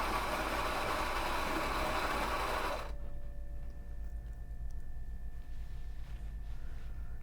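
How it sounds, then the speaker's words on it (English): A coffee grinder in a home espresso machine grinds beans with a dense, loud whirring burst for about three seconds, then cuts off, leaving a quiet hum. "Grinder's not too noisy."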